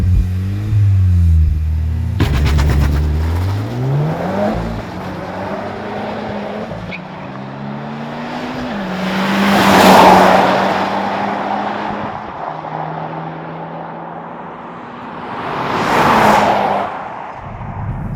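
A 2017 Honda Civic Type-R hot hatch launches hard from a standstill on a test track, its engine revving through rising gear pulls with brief shift dips, then roaring past close by twice, loud and without any talk.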